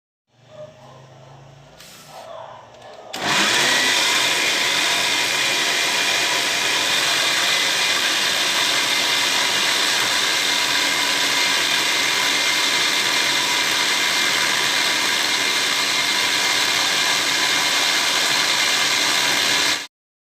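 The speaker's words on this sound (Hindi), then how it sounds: "इसको हम ब्लेंड कर लेंगे।" Electric chopper blending green masala for hariyali chicken, starting after a brief pause and then running as a loud, steady high whir for about seventeen seconds before cutting off abruptly.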